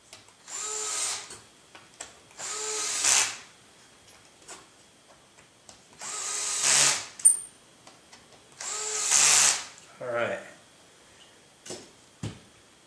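A power drill fires in several short, loud whirring bursts with quiet pauses between them while tightening down the boom on a 550L build. Faint ticks and clicks follow the bursts.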